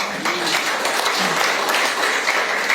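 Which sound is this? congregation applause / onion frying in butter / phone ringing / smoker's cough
congregation applause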